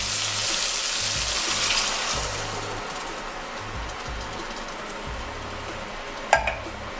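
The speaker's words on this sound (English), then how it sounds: "I just put a little water to rinse my coconut milk" Water splashes into a coconut milk can to rinse it, a steady close hiss that fades over several seconds and ends with a brief clink.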